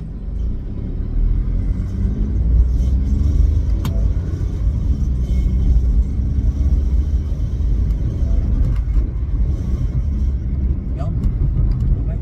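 A 2017 Toyota Wigo G hatchback drives on after a downshift into second gear, its engine a steady, loud low rumble with road noise throughout, and a voice speaks over it.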